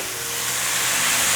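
Winter melon strips stir-fried in a wok, producing a bright steady hiss of steam and sizzle that swells slightly louder over a moment, close and without talk.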